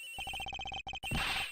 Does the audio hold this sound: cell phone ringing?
yes